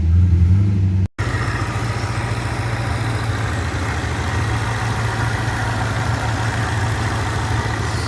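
Supercharged LS1 V8 in a Holden VY Crewman idling rough with an unbalanced fuel mix between banks, a loud, steady, uneven engine rumble close by after a brief cut near the start, with no voices.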